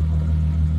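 Mk3 VW VR6 12-valve engine running with a steady low rumble and an odd mechanical hum, close and continuous with no talk.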